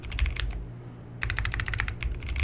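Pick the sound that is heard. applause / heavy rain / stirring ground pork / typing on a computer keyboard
typing on a computer keyboard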